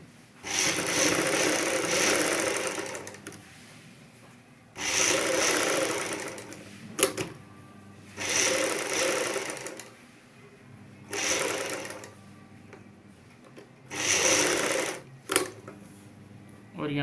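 Sewing machine stitching a front V neck on a garment, running in several bursts of a few seconds each, separated by pauses. The motor whir and needle chatter are close and loud, with short clicks between runs.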